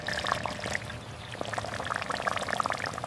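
Dal cooking water and tamarind water pour steadily into a pot, a continuous splashing trickle with small bubbling pops throughout, close by.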